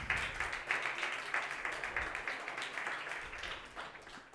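An audience at a business awards gala applauds, steady dense clapping from a large crowd that carries on for the whole stretch at a moderate level.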